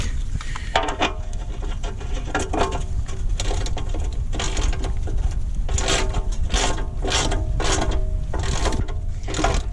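A wrench ratchets while tightening the oil drain plug on a 1983 Dodge Aries during an oil change, giving steady rapid clicking bursts in a near, continuous sequence with no talking.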